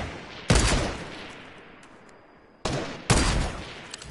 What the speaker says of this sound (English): I was trying to shoot him through the walls.